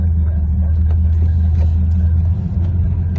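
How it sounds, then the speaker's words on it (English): A modern 2009 street cruiser drives through a tunnel, its engine a loud, steady low rumble echoing close by for the whole stretch, with no talk. "me with my modern 2009 street cruiser. Drive through the tunnel, just like Wayne did"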